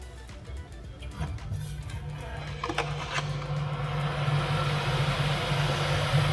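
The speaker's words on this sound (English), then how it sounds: "So that's the aircon ramping up now." A motorhome air conditioner on an Iveco Winnebago ramps up as its compressor kicks in, a steady low hum and drone that builds gradually and grows louder over several seconds.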